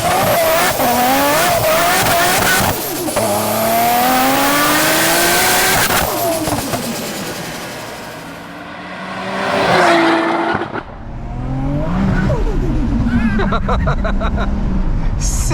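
A 700 BHP Nissan R33 GTR Skyline revving hard and driving, with loud, close engine roars climbing and falling in pitch over several pulls, and sharp tire squeals and skids between them.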